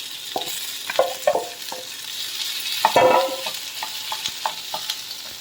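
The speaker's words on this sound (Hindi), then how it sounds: "देखो जीरा बर्तमान भलसे फुटीगला" Cumin seeds splutter in hot oil, giving scattered sharp pops and crackles over a soft frying hiss, with a louder cluster of bursts midway and no talking.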